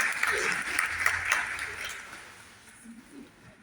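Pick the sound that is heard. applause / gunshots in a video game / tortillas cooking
applause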